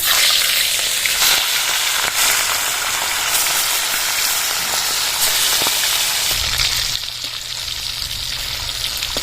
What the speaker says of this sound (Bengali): এবার মাছটা তেলে ছেড়ে দেবো